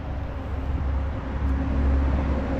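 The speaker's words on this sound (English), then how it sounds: "Natural tendency is to want to yell over the traffic noise" Steady roadside traffic rumble on a Maine road during a long walk, dense low engine drone from passing cars and heavier vehicles, loud and continuous with no voices.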